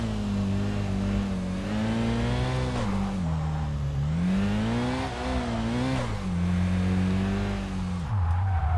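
A race car engine in Kaido Racer 2 drones steadily and loudly close up, its pitch rising and falling repeatedly as it revs through gear changes and corners, with no talk over it.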